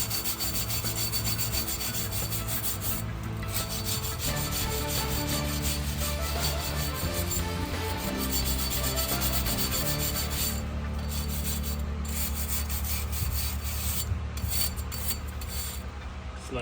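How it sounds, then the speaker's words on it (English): Brushing rust off the front wheel hub of a 2012 BMW during a brake rotor and pad job: a steady, close, continuous scraping rasp that runs unbroken throughout, with no talking. "Just brushing up the rust off a little bit from the hub."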